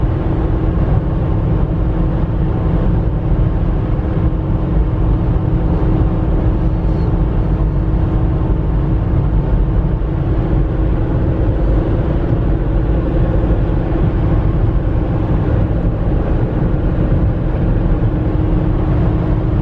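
The V8 engine of a VW Touareg works uphill while towing, a loud, steady low drone heard from inside, dropping into fifth gear with no clear break in the sound.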